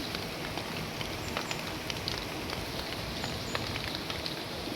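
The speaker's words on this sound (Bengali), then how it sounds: "হালকা হালকা বৃষ্টি এখন আছে" Steady light rain patters with soft, scattered drops, an even hiss throughout at low volume, no voices.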